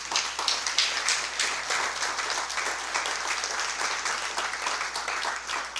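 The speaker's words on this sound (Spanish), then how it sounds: "Denle un fuerte aplauso al Señor." A church congregation applauding during a sermon, a dense, steady wash of many hands clapping at moderate distance, continuing throughout with slight swells.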